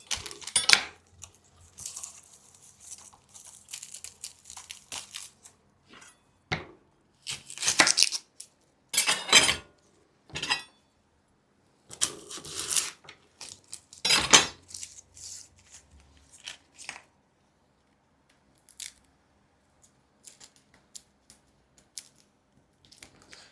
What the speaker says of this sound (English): And I'm going to cut a red onion.